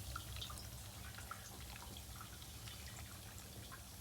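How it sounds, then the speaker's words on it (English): Alpine DIG370 outdoor zen pagoda floor fountain, water trickling and dripping softly and continuously, faint and close with no voices. "water fountain noise."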